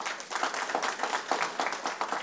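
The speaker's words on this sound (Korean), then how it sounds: "박수 부탁드리고요." Forum audience in Jeju claps for a guest, brisk, close applause from a modest crowd with a pulsing, slightly rhythmic texture that continues steadily for a couple of seconds.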